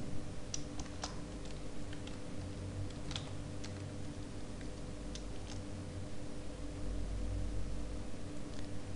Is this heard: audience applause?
no